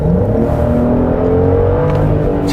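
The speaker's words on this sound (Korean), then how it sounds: "지금처럼 한 4000rpm 이상으로 회전을 시키면은 엔진 소리가 좀 더 많이 크게 들어오죠." A 2022 Genesis GV70 with a 3.5 twin-turbo, 380-horsepower engine and all-wheel drive revs above 4000 rpm. The close, loud engine drone holds steady throughout, and no one speaks.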